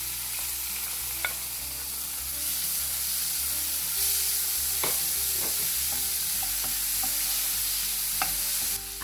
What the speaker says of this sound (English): Fry the onions for about 2 to 3 minutes and then add the chopped tomatoes.